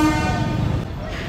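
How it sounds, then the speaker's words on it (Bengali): A river passenger launch, the Parabat 12, sounds a loud, sustained deep horn blast as it departs, the tone holding steady for about a second before cutting off. "3বার হর্ন বাজালো, এর মানে বুঝতেই পারতেছেন লঞ্চ ছেড়ে দেওয়ার সময় হয়েছে"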